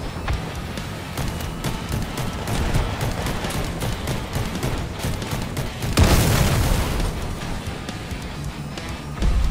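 A shotgun in the Crossout vehicle combat game fires in a rapid string of repeated booming shots, with a heavier blast near the end, all moderately loud and without talk.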